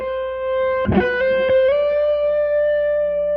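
A distorted electric guitar plays a blues lick in D: a sustained note with a sharp pick attack, then a slide up that settles on a long, ringing root note, loud and alone.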